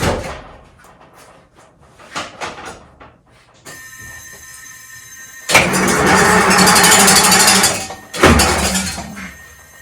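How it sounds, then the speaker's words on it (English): A Detroit Diesel 671 engine cold-starts: a few seconds of cranking and mechanical clatter, then it catches into a loud, steady, close roar with one surge near the end. "we'll close this video out with a Detroit Diesel 671 cold start for you"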